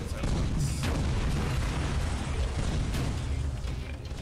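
Rapid game gunfire from two guns fired together in Tower of Guns, a dense, loud barrage of booms and pops running continuously throughout, with a voice talking over it.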